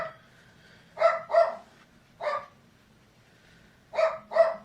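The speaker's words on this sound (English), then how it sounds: "the bin men are on their way around, so the dogs are probably going to be going berserk." Dogs bark at passing bin men in a residential street, sharp barks in pairs and singles with quiet gaps between them, heard from indoors at moderate distance.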